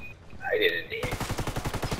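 Rapid automatic gunfire from the Ghost Recon Wildlands shooter game, a steady burst of evenly spaced shots after a brief swoosh, loud and close.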